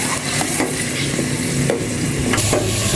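Pork sautéing in a hot pan after tomatoes, a steady loud sizzle with a few sharp spatula scrapes and stirs, no voices.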